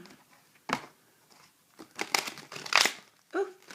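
Tarot cards being shuffled during a reading produce a few separate crisp, crinkly riffles and slaps, close and fairly quiet, with short pauses between bursts.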